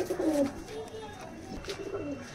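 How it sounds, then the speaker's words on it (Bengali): Soft cooing of Andhra Madras pigeons close by, a few rolling coos over light background noise. "পায়রাগুলো দেখো"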